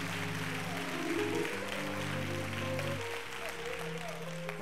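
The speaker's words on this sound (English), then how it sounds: "Can we clap our hands and thank God for the anointing in this place?" Congregation clapping hands during a church revival service, a steady wash of applause under sustained organ chords, moderately loud and continuous throughout.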